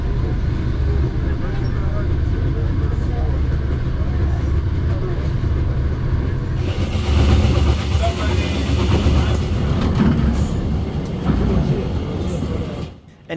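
Steady low rumble and rattling of a moving train heard from inside the carriage, continuous throughout, with voices talking over it.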